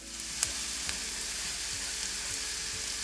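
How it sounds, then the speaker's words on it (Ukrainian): Chopped garlic and onion sizzle steadily in a frying pan over medium heat, a constant loud crackle with a few sharper pops and no voices. "Кілька зубчиків чищеного часнику подрібнюємо ножем і також відправляємо після цибулі на пательню"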